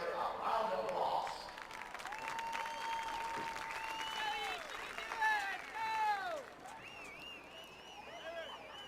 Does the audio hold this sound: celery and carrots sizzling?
no